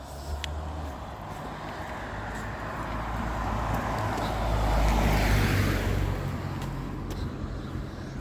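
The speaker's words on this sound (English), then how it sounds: "There's 2 cars coming." A steady road rumble swells as a car passes close by on a one-way street, then eases, with traffic hum continuing in the background.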